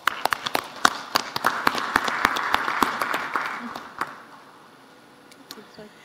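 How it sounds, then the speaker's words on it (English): A conference audience applauds a panel on African electricity markets, sharp individual claps building into a fuller round, then thinning out and fading after about four seconds. "Please join me in giving them a very hearty round of applause."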